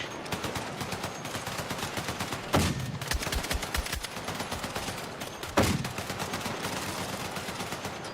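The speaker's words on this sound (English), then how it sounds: "Who is shooting mortars?" Mortars land in the shooter game Battlefield 6, two heavy blasts a few seconds apart that boom out over steady rattling gunfire.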